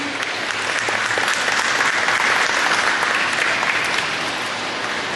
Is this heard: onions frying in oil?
no